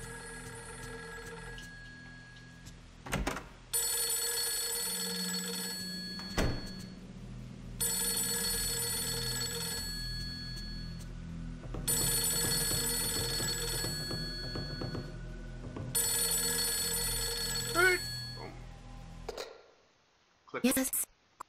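Repeated electronic telephone ringing from the survival-horror video game Fatal Frame 3, sounding in several long bursts with short gaps, with quieter game sounds and brief noises between rings.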